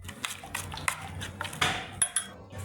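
A spoon stirs pani puri filling in a bowl at home, with several clinks and scrapes of metal against the dish, irregular and close, in a quiet kitchen.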